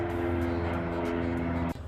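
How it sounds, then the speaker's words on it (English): An airplane passing overhead, a steady low engine drone held for almost two seconds before it drops away abruptly, with faint speech in the background. "Why is a plane passing?"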